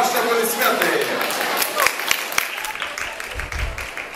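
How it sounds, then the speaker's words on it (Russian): An audience at a raw lasagna cooking master class claps in a steady, fairly loud wash of applause, with a voice speaking over it. "Ваши аплодисменты!"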